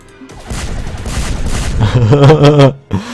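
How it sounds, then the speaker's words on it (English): Nuclear bombs detonating in the space strategy game Master of Orion: a dense rumbling barrage of explosions builds, then a rising wavering tone swells loudly before cutting off, with one last short burst. "But we have 43 bombs. Here we go. 43 nukes."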